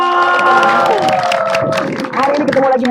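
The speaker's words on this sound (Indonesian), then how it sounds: "Tepuk tangannya mana dong?" An audience at the Indonesian stage show Senja bersama Vinanda cheers, shouts and applauds in a loud, continuous wash of crowd noise, with voices mixed in.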